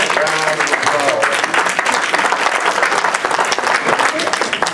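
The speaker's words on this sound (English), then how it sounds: "let's give Jesse Tolliver a big round of applause." Sustained audience applause at a 50th-year high school class reunion: steady, dense clapping from a large crowd, loud and close, continuing evenly throughout without a break.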